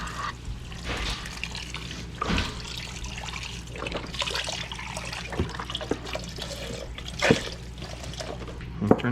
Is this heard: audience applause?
no